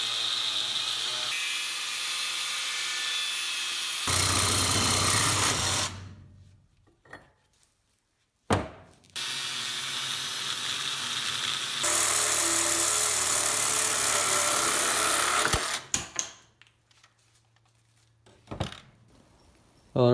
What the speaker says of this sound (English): get out my grinder with the cutting wheel on it, because that's about the best tool that I have for this, and just start cutting pieces off and grinding